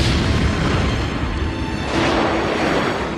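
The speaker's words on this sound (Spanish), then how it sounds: "16 segundos más tarde, otra explosión sacudió Epping" A rocket strike explosion in Epping, northwest of London, heard as a sustained, loud, broadband rumbling roar that swells slightly midway and fills the whole clip.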